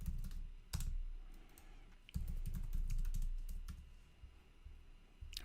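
Computer keyboard keys clatter in quick irregular bursts while someone types code. The typing is close and steady, with short pauses between runs and no talking.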